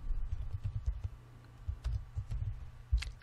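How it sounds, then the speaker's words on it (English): Quick typing on a computer keyboard while entering a title in video editing software, with soft, faint key clicks in an irregular rhythm over a low hum. "And I'm going to type in a title."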